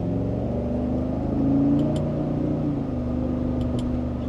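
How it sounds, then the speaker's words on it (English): A 2025 Cadillac Escalade Sport accelerates mildly in sport mode from second gear, its engine a low, steady cabin hum that swells briefly and then settles, with no talking. "And a mild acceleration,"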